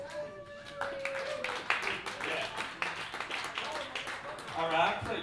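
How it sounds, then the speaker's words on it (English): Audience clapping at a live music performance builds into scattered, moderately loud applause mixed with cheering and voices, swelling again toward the end. "Give me a round of applause."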